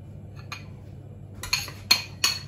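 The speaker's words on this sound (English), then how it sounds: "So I'm gonna stir this now." Butter icing is stirred in a bowl for a Chelsea football cake, with a soft rustle followed by three or four sharp metallic clinks of the utensil against the bowl, close and quiet between hits.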